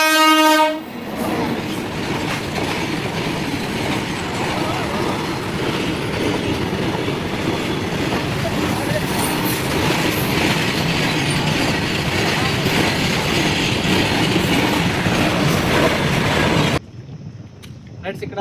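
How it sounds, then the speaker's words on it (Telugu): A train rushing past a level crossing at high speed, horn blaring at the start, then a loud steady roar of wheels and clattering wagons that cuts off abruptly near the end. "చాలా స్పీడ్గా అయితే ట్రైన్ వెళ్తుంది, చూడండి."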